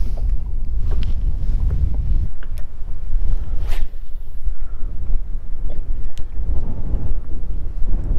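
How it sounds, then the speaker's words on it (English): Strong wind buffeting a small fishing boat on water near rocks, a steady loud low rumble of gusts against the microphone throughout, with faint water and hull sounds and no talk. "Let's try to get out of this wind."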